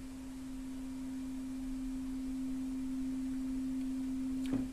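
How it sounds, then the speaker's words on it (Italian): A single steady sine tone from a generator swells in with a very slow, gradual attack, a pure low hum holding alone for nearly five seconds, faint and clean with a small click near the end. "abbiamo a che fare solo con tre generatori ad onde sinusoidali"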